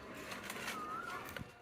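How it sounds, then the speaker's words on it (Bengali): Pigeons out in an open field give a soft, low cooing call, faint and somewhat distant against quiet outdoor background noise. "মাঠে কবুতর, ওরে অসংখ্য কবুতর"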